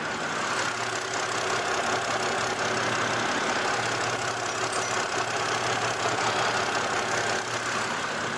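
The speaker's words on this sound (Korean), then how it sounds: "그럼 지금 바로 엔진 소리 자세하게 들려드리도록 하겠습니다" A BMW 528 inline six-cylinder engine idles steadily and smoothly with the hood open, a constant close hum with a faint ticking texture and no change in revs.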